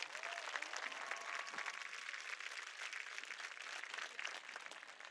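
Sustained applause from a graduation ceremony audience, dense and steady for the whole stretch, with many hands clapping at once in a large hall.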